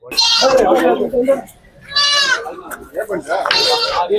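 Goats bleating at a Saturday livestock market in Ettayapuram, Thoothukudi district, with several loud, close wavering cries in separate bursts amid busy crowd chatter and voices.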